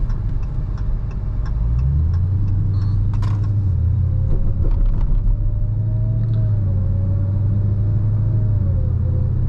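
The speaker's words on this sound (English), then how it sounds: "even when you're just driving normally, you can hear the supercharger whine" A Dodge Charger Hellcat Widebody engine rumbles steadily while driving normally. A thin, high supercharger whine rises and wavers above it, with light ticking early on.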